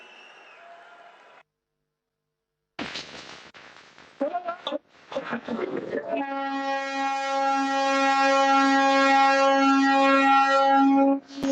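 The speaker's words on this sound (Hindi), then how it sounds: "श्रीनगर स्टेशन से चलने वाली पहली इलेक्ट्रिक ट्रेन और संगलदान स्टेशन से बारामूला के बीच चलने वाली ट्रेन को अब माननीय प्रधानमंत्री जी झंडी दिखा के रवाना करेंगे" Kashmir's first electric train departs Srinagar station at a flag-off ceremony. A brief announcement and applause give way to a loud, sustained multi-tone train horn that blares steadily for several seconds.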